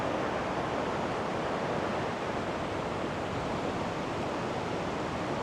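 Small Swiss waterfalls joining together in one place, pouring with a smooth, continuous wash of falling water at a moderate, steady level, alone without talk.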